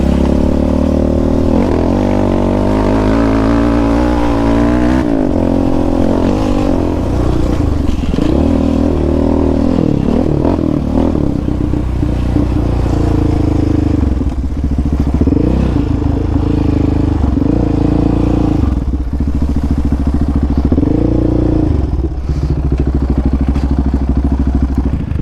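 Yamaha Raptor 700 ATV ridden off-road, a loud, close engine revving up and down continuously with throttle surges and rattling clatter over rough ground.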